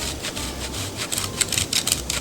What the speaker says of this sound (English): we're going to grate some Parmesan cheese in there